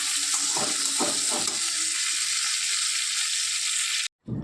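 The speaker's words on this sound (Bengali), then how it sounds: "সকালে রান্না হচ্ছে আলু চচ্চড়ি" Potato curry (aloo chorchori) frying in a pan, a loud steady sizzle with several stirring scrapes early on, cutting out abruptly near the end before briefly resuming.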